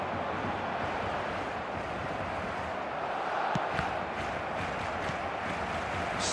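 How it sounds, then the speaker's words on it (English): A dense, steady roar of stadium crowd noise and applause fills the whole stretch, broad and unbroken, like a large crowd cheering from all around. "a lot of applause for the thought"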